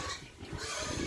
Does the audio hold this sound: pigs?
yes